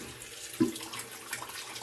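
Tap water runs faintly and steadily in a sink while a bald head is shaved with a Gillette Sensor Excel razor, a soft continuous hiss with one brief splash near the start.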